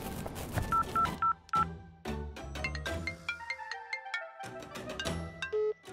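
A telephone is dialed, with a quick series of keypad tones, followed by melodic ringing tones, clear and close with short gaps.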